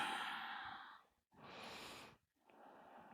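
Slow, soft breathing during an active yoga class: three long, airy breaths, each fading out, heard close and quiet with no talking.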